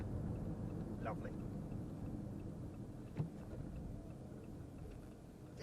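Jeep Renegade Longitude engine cruising steadily in fifth gear at about 45 mph and 2,000 rpm, a constant low drone with road and wind noise inside the cabin.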